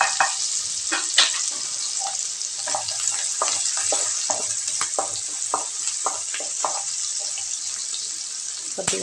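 Garlic pieces fry in a pan for okra masala curry, a steady sizzle broken by scattered clicks and stirring taps.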